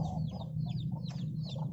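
Chickens and chicks in a small backyard farm coop cluck and chirp in short repeated bursts, fairly close, over a steady low hum with no talking.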